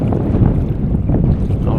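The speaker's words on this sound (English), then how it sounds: "I'm hoping the audio is not too bad because it's a bit windy" Wind gusting steadily around a small boat on open water while out fishing with a mouse wake bait, a continuous close rumbling buffeting the microphone with no other clear sounds.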